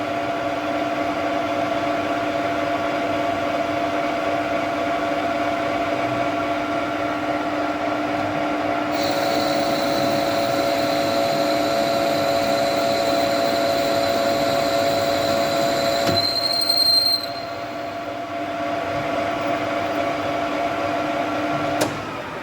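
A metal lathe taking a final internal boring cut to 30 millimetres diameter, a steady whining motor hum with a thin high cutting squeal joining partway, then the squeal ceasing and the machine running on.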